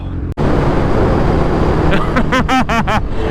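A Suzuki Hayabusa motorcycle engine roars loudly at speed, then rises and falls through a quick string of downshifts near the end, with strong wind rush throughout.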